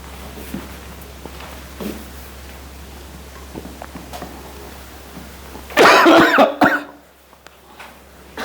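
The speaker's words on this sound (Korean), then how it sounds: "오, 기침 나와 죽겠네." A short burst of harsh coughing breaks out near the end after quiet room noise, a couple of rough hacks close to the listener.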